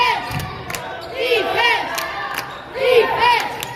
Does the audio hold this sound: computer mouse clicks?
no